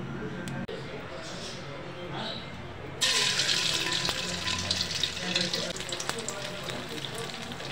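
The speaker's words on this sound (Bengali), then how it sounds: "এটাকে এখন ভাজবো, বড়া করব" Banana flower fritters dropped into hot oil in a pan give a sudden loud, steady sizzle partway through, after a quieter stretch with faint background noise.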